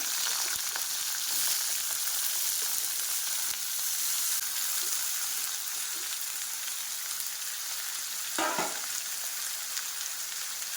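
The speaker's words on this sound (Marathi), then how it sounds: "तेल घालून घेणार आहोत। त्यानंतर धुतलेले बटाटे आणि फुलकोबी घालणार आहोत।" Washed potatoes and cauliflower frying in hot oil in a kadhai for pav bhaji, giving a steady, close hiss and sizzle throughout with a brief louder crackling burst near the end.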